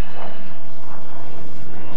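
A steady, loud aircraft engine drones without pause in a flight simulator game, a constant propeller-plane hum filling the whole stretch.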